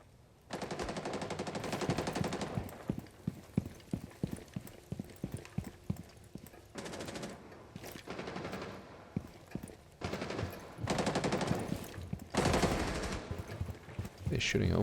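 Gunfire in the Rainbow Six Siege video game rattles in rapid automatic bursts and single shots, some sustained and some clipped, loud and close across the whole stretch.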